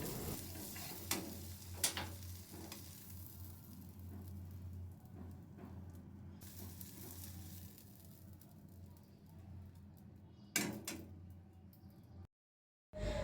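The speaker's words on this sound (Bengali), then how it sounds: "এই তো আমার ডিম ভাজা অলমোস্ট ডান" An egg fries in a pan with a faint continuous sizzle, occasional clicks and scrapes of a spatula, quiet and close, ending in a short silence.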